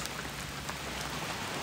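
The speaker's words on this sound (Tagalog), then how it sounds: "Mag-set up na ako kahit umuulan." Steady rain falls outdoors by the sea, a dense even hiss of drops with no pauses, fairly soft and continuous, no voices.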